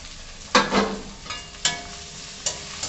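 Tomato goes into a pan of onion, ginger and garlic and fries for a chicken curry. Loud sizzling bursts come as a spoon stirs, a few times in uneven rhythm, close up.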